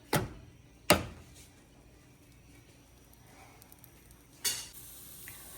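A dosa on a hot pan is lifted and flipped: three sharp scraping clanks from the spatula, separated by quiet stretches of faint sizzling, close by and with no speech.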